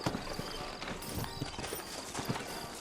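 Horses' hooves clip-clop steadily in Red Dead Redemption on PS3, a rhythmic run of hoof strikes at moderate distance over a dense ambient bed, with faint voices mixed in.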